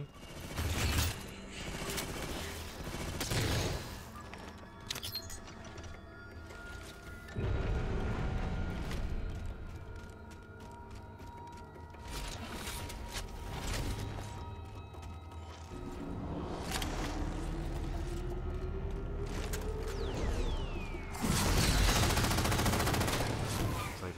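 Halo 4 gameplay: an incineration cannon fires amid loud blasts, crashes and rapid gunfire bursts, with layered explosions, mechanical clatter and a rising whine through a dense, continuous battle din.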